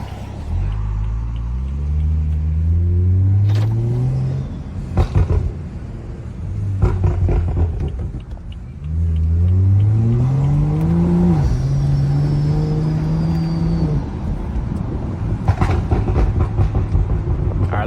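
Tuned BMW F30 with an XHP transmission tune accelerating hard, engine revs climbing in repeated sweeps broken by quick, abrupt gear shifts, loud and close from inside the car with no talking.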